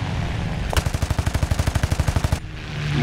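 In-game aircraft machine-gun fire from a P-51C fighter in War Thunder air realistic battles: a rapid, steady burst of roughly twenty evenly spaced shots lasting under two seconds, loud over a constant engine drone.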